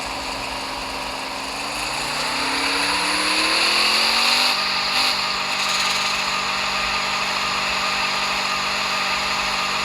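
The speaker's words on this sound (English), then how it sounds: "Is tuned to feel like a genuine diesel." Ram 2500 diesel pickup engine in Car Parking Multiplayer 2, revving steadily on a dyno with a rising pitch over the first half, then holding a loud, sustained drone, alone without talk.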